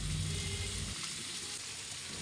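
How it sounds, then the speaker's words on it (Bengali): Chopped onions for a rohu fish bhuna sizzle in hot oil in a pan, a steady close frying hiss with a brief stir at the start. "এখন পেঁয়াজগুলোকে একটু ভেজে নেব"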